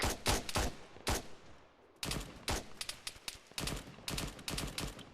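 Gunfire in the video game Arma on a Takistan patrol: rapid, dense bursts of automatic shots, mostly close and sharp, in clusters broken by short pauses, with no voices.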